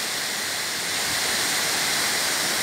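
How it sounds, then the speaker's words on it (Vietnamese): Pongour waterfall heard from the foot of the falls: a loud, continuous roar of crashing water fills the air, steady and unbroken throughout with no voices. "Đây là chân thác."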